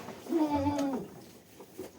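A single Anglo-Nubian goat bleats once, a short wavering cry over a quiet background rumble.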